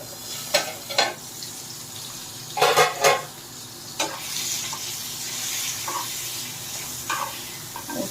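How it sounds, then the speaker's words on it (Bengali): Oil heating under a lid in a home kitchen pan while cooking fish curry with ridge gourd, a steady hissing sizzle with several sharp pops and spits scattered throughout, close and without talk. "আর এটা হচ্ছে তেলটা করে নিই, ভীষণ ফাটছে বলে তাই ঢাকা দিয়ে দিলাম"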